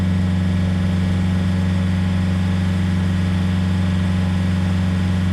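A boat engine on a morning trip to the Cai Rang floating market in Can Tho drones loudly and steadily, a constant close low hum with no speech.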